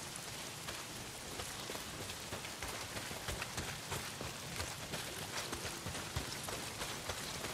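Heavy rain in the video game Days Gone, a dense continuous hiss of downpour pattering on surfaces, steady and fairly loud with scattered drop impacts and no talking.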